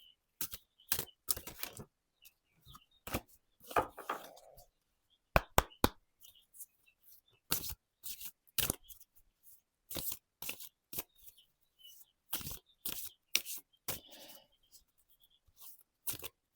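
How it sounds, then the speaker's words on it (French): Oracle cards are handled and drawn one by one, giving sharp dry card slaps and flicks in an irregular rhythm, close and fairly quiet, with brief pauses between. "on va prendre quelques cartes complémentaires"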